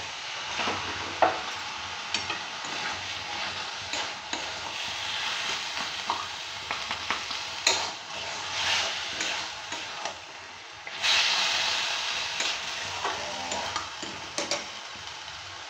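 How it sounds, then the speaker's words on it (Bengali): Mutton rubbed with salt and turmeric sautés in a pan, giving a continuous close sizzle with intermittent stirring scrapes and small ticks from the utensil, and no speech. "আমি এবার দিয়ে দেবো মটনটা, নুন হলুদ মাখিয়ে রাখা। এটাকে দিয়ে ভালো করে একটু কষিয়ে নেব।"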